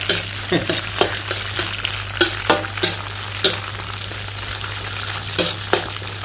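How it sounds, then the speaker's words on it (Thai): Tofu, sweet preserved radish and dried shrimp stir-fried in a pan, a steady close sizzle broken by sharp spatula scrapes and clacks at an uneven rhythm, with a low constant hum underneath. "เมื่อผัดเต้าหู้สุกแล้วก็ใส่หัวไชโป๊หวานลงไปผัดด้วย ตามด้วยกุ้งแห้ง"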